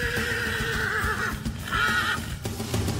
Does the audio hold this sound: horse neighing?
yes